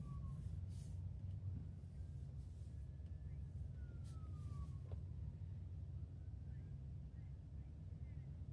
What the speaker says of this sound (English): Here comes another siren.